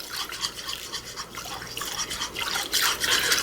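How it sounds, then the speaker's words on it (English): Pineapple juice whisked in a pan for a lemon pepper wing sauce, giving steady close scraping and swishing throughout with brief clinks and no pause. "Start whisking that up."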